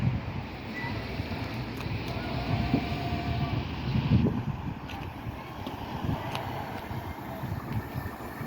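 Rumbling roar of a passing train at Starcross station in Devon, likely a Class 800 express service, with broad low rumble and wind noise running steadily throughout, swelling briefly near the middle.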